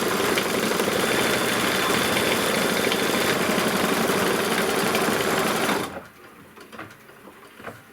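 A Kimberbell embroidery machine stitches a placement and tack-down line at steady high speed, a loud, dense, continuous whirring hum that runs for about six seconds and then stops abruptly, leaving faint quiet clicks.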